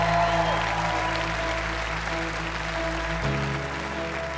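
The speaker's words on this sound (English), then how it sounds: "A big round of applause" Studio audience applause for a contestant named Simon on stage at a televised talent audition, a steady wash of clapping over a low hum and tonal backing music that shifts partway through.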